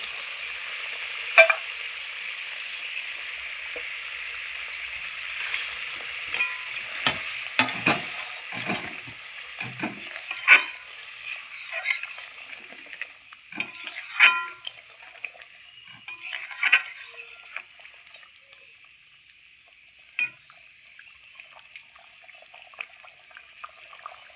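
Duck eggs fry in a pan for duck egg curry, with a constant light sizzle and irregular clatters of stirring and utensil knocks scattered throughout.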